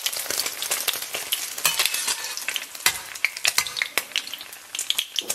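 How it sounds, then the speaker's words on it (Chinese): Eggs stir-fry in a hot, lightly smoking wok, with a dense, close sizzle broken by frequent sharp scrapes and clacks of the spatula against the metal, uneven and busy throughout with no talking. "然后炒差不多，咱把鸡蛋给它捞出"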